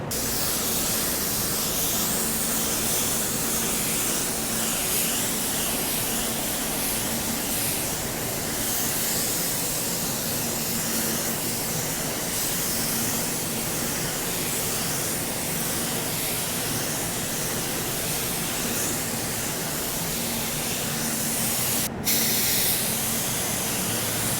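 A spray gun hisses continuously spraying thin, wet coats of car paint in a body shop, a loud steady airy rush with only slight variation, close by and with no talking.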